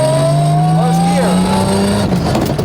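A 1500hp Toyota Supra accelerates hard, with its engine note climbing steadily before a gear change drops the pitch, loud and close from inside the car.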